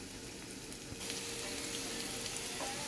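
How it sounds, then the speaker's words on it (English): Vegetables with onions sautéing for shrimp fried rice sizzle steadily in a hot pan, a continuous close frying hiss that grows slightly louder after the first second, with occasional faint stirring scrapes. "So as I'm sitting here stirring and sauteing my vegetables, we're going to keep those going"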